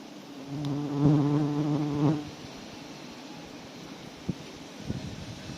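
A close buzzing hum of bees passing near, droning for about a second and a half, then fading into quiet outdoor background with a few faint taps.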